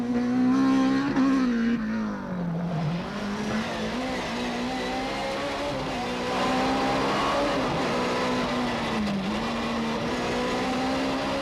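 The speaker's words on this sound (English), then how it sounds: "And on the next stage, the BMW will pass the stricken kit car." A BMW rally car on a stage of the 1996 Donegal International Rally drives past, its engine a loud sustained roar that rises and falls through gear changes as it passes close by.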